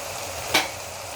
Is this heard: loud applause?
no